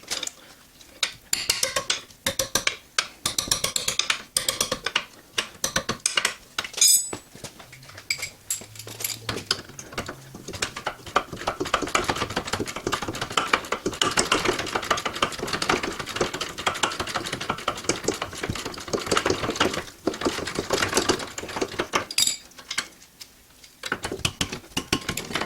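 Wrench and tools working loose the 19mm rear brake caliper bracket bolts on a Nissan Juke, Sentra or Versa during a rear pad and rotor job, with sharp metallic clicks, ratcheting and clanks, close and fairly loud throughout.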